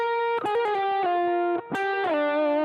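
Distorted electric guitar notes climb and fall through a Phrygian scale, each note ringing out close and loud in a quick, uneven run with no talking over it.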